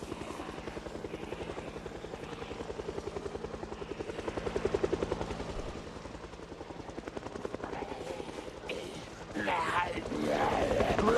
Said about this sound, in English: You wait for the helicopter to get here